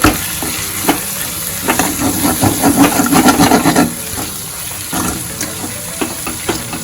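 Vaseti leaf greens with coriander-cumin powder and salt being stirred and fried in a pan: a steady close sizzle with repeated scraping spoon strokes that swell in the middle, no talking.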